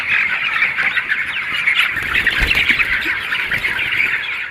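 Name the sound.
chickens on a poultry farm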